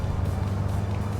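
A V-tail Beechcraft Bonanza BE35 piston engine in Microsoft Flight Simulator runs up to about 2,000 RPM with the parking brake set, a steady dense low rumble that stays even throughout.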